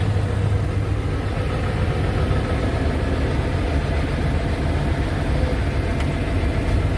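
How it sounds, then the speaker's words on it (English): A diesel engine with glow plugs and a PTO, shortly after a cold start in snowy weather, idles with a continuous, even, low rumble close by and no voices. "I'm gonna do a cold start here"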